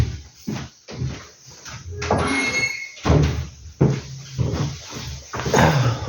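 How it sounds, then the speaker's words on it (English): A room door is handled and pushed shut nearby, with a run of knocks, thuds and rattles that come in uneven bursts over several seconds. "let me close the door for a second."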